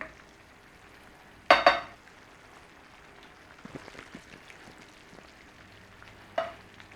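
Cream sauce with pork and cider simmers quietly in a pan, a soft steady bubbling hiss broken by a couple of sharp utensil clinks against the pan early and near the end.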